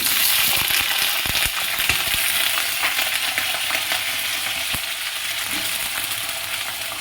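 Loud, dense sizzling of diced potatoes frying in a large pan, with scattered clicks and scrapes of stirring, steady throughout and no voices.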